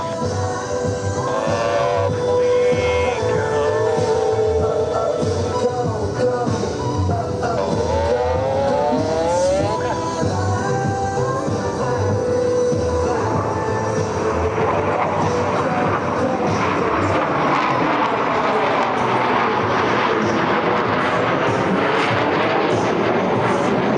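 US Navy Blue Angels jets fly the Diamond roll at an air show, four aircraft passing at about 400 mph with a loud, continuous roar whose pitch sweeps as they pass, while an announcer talks over the noise.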